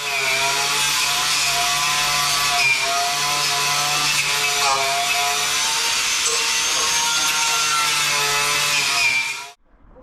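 A power tool buffs surface rust off the front cross member of a Corsa B, grinding loudly and continuously at close range with a harsh, rasping tone before cutting off abruptly near the end.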